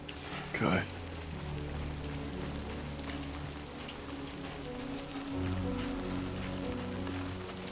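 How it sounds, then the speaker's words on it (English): Soft rain falling in the video game Death Stranding 2, a faint steady patter beneath low droning background music and ambience. "Great. Rain. Gotta move."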